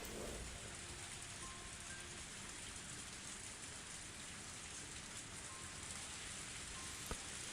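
Steady rain in the Higurashi video game pours down as a dense, even hiss of drops on surfaces, continuous and moderately loud throughout with no voices.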